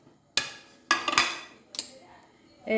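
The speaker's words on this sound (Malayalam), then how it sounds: "ആദ്യം നമുക്ക് പയറ് വറുത്തെടുക്കാം" Lentils dry roasting in a hot pan, heard as a few sharp, close metallic clinks and scrapes of a utensil against the pan, spaced out over a quiet background.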